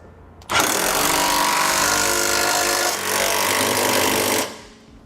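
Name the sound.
3/4 inch socket tightening flange nuts on carriage bolts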